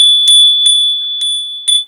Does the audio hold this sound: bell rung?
yes